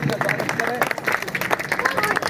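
Applause from a crowd at a political gathering in a hall, a short burst of clapping heard under a speaker's amplified voice and general hubbub.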